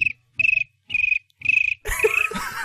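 A person's voice imitates a cricket, giving four evenly spaced shrill chirp bursts, close and clear, followed by a noisier, rougher burst.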